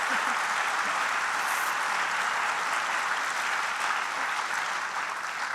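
An audience at a speaking event gives sustained, dense applause, steady and loud throughout without a break.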